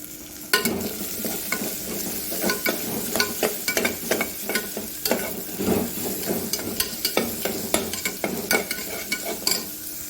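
Onion tossed into hot oil with curry leaves and a ginger-garlic-coconut paste, sizzling steadily while a spoon stirs and scrapes the pan in repeated sharp clinks, close and continuous with no talk.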